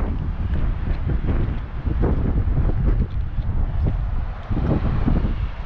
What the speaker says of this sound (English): Windy again as usual